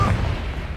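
A single muffled, low booming blast from the Confringo explosive spell in Hogwarts Legacy, fading quickly into a dull rumble.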